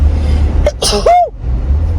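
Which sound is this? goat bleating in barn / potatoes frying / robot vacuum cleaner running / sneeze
sneeze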